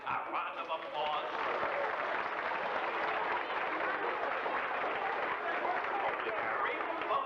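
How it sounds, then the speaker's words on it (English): A crowd at a 1980s live magic show gives a volunteer helper a sustained round of clapping, dense and even for about seven seconds, with faint voices mixed in. "let's give my friend a round of applause"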